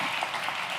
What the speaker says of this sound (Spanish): Un aplauso para los actores.